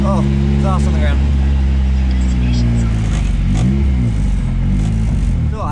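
Nissan S13 drift car engine idling without making boost, a steady low rumble with some clatter, close up with someone talking over it.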